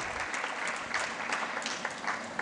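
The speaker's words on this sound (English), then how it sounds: "Can we hear a round of applause" Steady applause from an audience at a medical expo in Goa, dense clapping filling the whole stretch at a moderate level.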